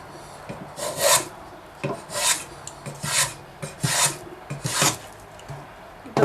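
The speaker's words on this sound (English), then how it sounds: "I'm just going to put a little radius in, and the way that I do that is I clamp them all in together" A file rasps across clamped wooden guitar back braces as they are given a radius, in six slow, even strokes with brief gaps between, close and alone.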